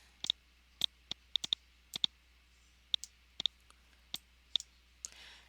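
A computer mouse clicks about a dozen times at an uneven pace, each click crisp, close and isolated against a quiet background.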